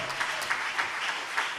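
A church congregation claps together in a short, lively burst of applause at a preaching service, steady hand claps with a few sharper peaks and no voices.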